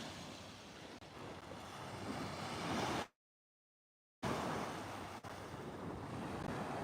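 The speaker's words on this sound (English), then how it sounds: "The open ocean here." Open-ocean surf rolls at sunset beside a bush campsite, a steady wash of waves mixed with heavy wind rumble on the microphone, broken by a second or so of dead silence midway.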